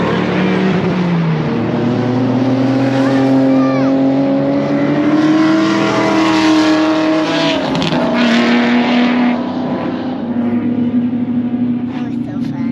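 A Toyota GR Corolla track car laps Willow Springs raceway, its engine a loud, continuous drone heard close up from onboard, with gear shifts and pitch changes as it accelerates and brakes.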